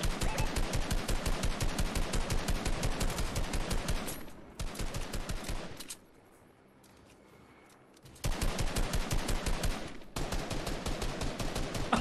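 Rapid automatic gunfire in Fortnite, loud rhythmic bursts of shots with a short pause and quieter gap midway, then firing resumes steadily, no talking.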